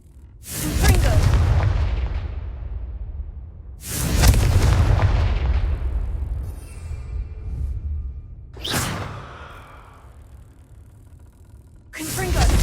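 Confringo blasting spells explode in Hogwarts Legacy on a PS4 Pro: four loud, deep booms spaced a few seconds apart, each hitting with a sharp crack and then rumbling away in a long, fading tail.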